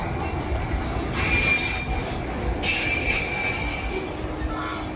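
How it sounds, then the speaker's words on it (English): A train rumbles steadily along the tracks, with high metallic wheel squeals rising and fading over a continuous low roar, fairly close. "they hear a train coming."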